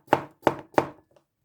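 A knife chops cucumbers on a cutting board for a sweet and sour cucumber side dish: three crisp, evenly spaced chops, close and distinct, followed by a couple of faint taps, with no talking.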